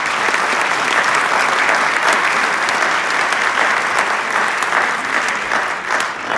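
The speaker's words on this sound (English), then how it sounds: "Let's have applause for the entire family." Dense, sustained audience applause filling a hall at a justice-themed gathering honouring a family, steady and loud throughout without a break.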